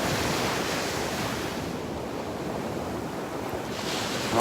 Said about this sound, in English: You can hear the waves behind me.